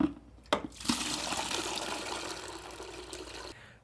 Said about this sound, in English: we're gonna go ahead and use the gate valve here on the back to empty into a drain